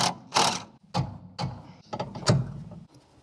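Someone works a wrench against a suspension nut on a Mk2 Escort, giving a series of five or six sharp metallic ratcheting clicks and clunks, close and spaced irregularly, with no one talking.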